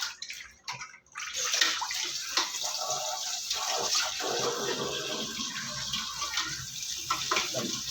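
Raw fish being washed in a basin of water, with splashing, sloshing and dripping that start after a brief pause, then keep going unevenly at close range.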